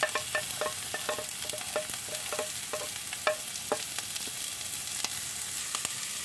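Bell pepper is stirred into a pan where carrot, garlic and shallot are already frying, giving a steady sizzle broken by repeated spatula scrapes and clicks at a moderate level.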